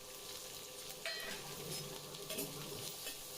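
Potato curry sautéing in a pan as it is stirred, a steady close sizzle broken by a few louder scraping stirs, with no voices.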